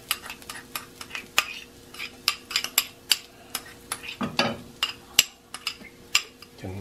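Garlic goes into a pan of hot oil and is stirred while shrimp are being cooked. A soft sizzle runs underneath a series of sharp clinks and scrapes from the utensil against the pan, each one distinct and close.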